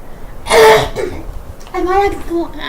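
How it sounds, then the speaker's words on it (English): Someone clears their throat twice in short, rough bursts, close to the microphone, with a quiet pause between them. "sorry if I keep clearing my throat"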